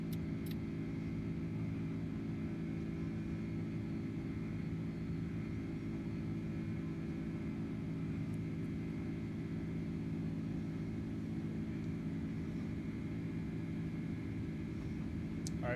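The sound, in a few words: FedEx cargo aircraft climbing after takeoff, Microsoft Flight Simulator video game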